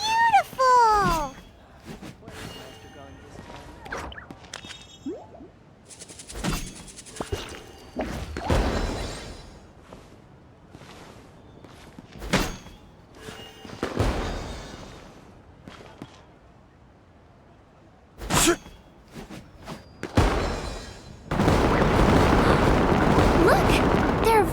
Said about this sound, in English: They're toys that shoot fireworks.